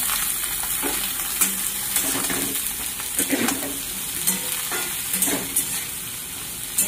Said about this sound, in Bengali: আলু আর ফুলকপি দিয়ে দিলাম।